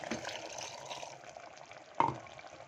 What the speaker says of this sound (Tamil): கொஞ்சம் புளி ஊற்றலாம். புளி ஊற்றிடலாம்.